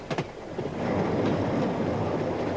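Australian 32 class steam locomotive No. 3203, built in 1892, running with a steady rumbling roar of the train in motion after a couple of sharp opening clanks, close and continuous with no talk.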